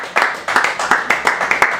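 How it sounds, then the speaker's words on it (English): An audience at an open mic anniversary show claps in a steady, rhythmic pattern of sharp, fairly loud bursts over about two seconds. "Let's have a big round of applause for Shane Stanton, everybody."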